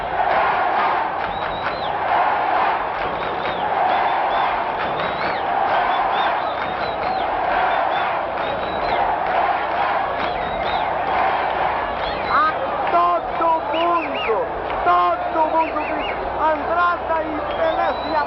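A football stadium crowd roars and chants in a sustained wall of voices, building before Pelé takes a penalty, with rhythmic shouts and swelling cheers throughout.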